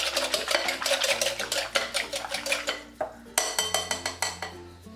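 Steady, rhythmic clinking and scraping of a spoon beating a dough mixture with a quarter teaspoon of salt in a bowl for Dilkush, close and continuous with sharp metallic hits throughout.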